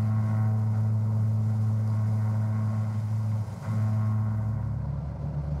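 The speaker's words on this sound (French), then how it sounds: "Vous pouvez entendre le bruit que ça fait quand la voiture roule sur les bandes." A car rolls over rumble strips on a Danish road, giving a steady low droning buzz that breaks briefly and then resumes, close and continuous with no speech.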